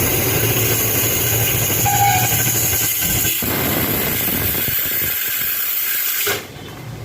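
Pressure cooker whistling on the stove while amla cooks, a loud continuous hissing steam whistle held for several seconds and then cutting off abruptly, no voices.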